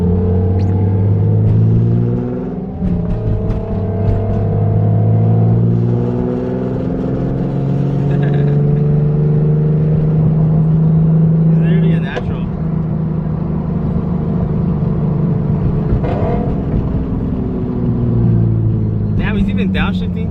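A tuned Infiniti Q50 engine drones and rises and falls in pitch while downshifting on a rainy drive, heard from inside the car as a loud steady rumble with shifting tones and occasional people talking.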